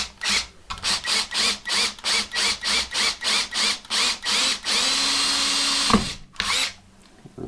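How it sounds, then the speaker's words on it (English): A power drill bores into the stock of a Bergara BMR rifle in a series of about ten short, even bursts, followed by one longer continuous run and a final brief burst, loud and close with no talking. "We're not gonna drill all the way through."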